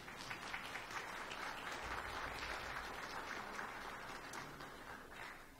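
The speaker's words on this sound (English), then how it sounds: "It's okay to applaud if you agree." A church audience applauds to thank school teachers and staff, a soft, steady patter of many hands heard from a distance that tapers off after several seconds.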